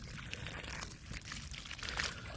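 Water poured onto a potted fruit plant, a steady soft splashing pour lasting throughout, fairly close and quiet with no talk.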